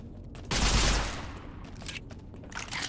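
A weapon fires in the video game Fallout New Vegas, a loud close burst of rapid shots that fades into a crackling, echoing tail with scattered smaller pops.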